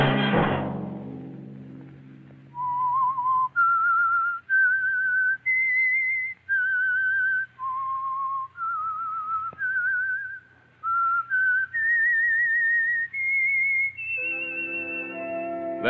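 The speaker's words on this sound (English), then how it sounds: "Let that whistle be your signal for the Whistler each Sunday night at this same time." A lone whistler carries the theme tune of The Whistler radio show, a clear melodic line of rising and falling sustained notes with short breaks between phrases, close and fairly loud over a faint low hum.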